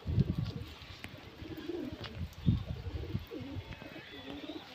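Pigeons at a pigeon sale make soft, repeated low cooing calls close by, in irregular bursts over a faint background murmur.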